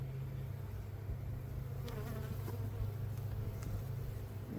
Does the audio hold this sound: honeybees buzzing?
yes